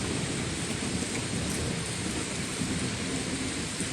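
Steady heavy rain from a thunderstorm pours across the whole stretch, with low rumbling thunder underneath, dense and constant, close by and without voices.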